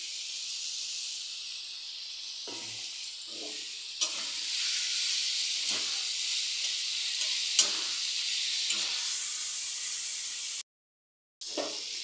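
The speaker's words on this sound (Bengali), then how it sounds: "আমি এখন এই তেলটাও ছেড়ে দিচ্ছি" Catla fish fat dropped into a hot pan, a strong steady hiss and sizzle with a few spatters, cutting out briefly near the end, no voices.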